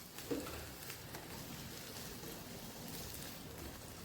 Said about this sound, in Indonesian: ini tinggal ditunggu dulu sampai mendidih